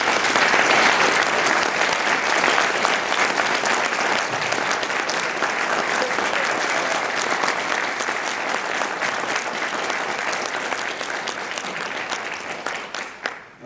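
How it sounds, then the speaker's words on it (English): Sustained round of applause from a convention audience, a thick continuous wash of many clapping hands that holds steady and then thins out and stops at the end. "So I would ask you to give a round of applause to"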